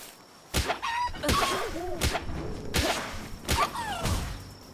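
Chickens in Palworld cluck in short bursts, mixed with sharp whooshing, swishing hits at a steady pace, loud and close.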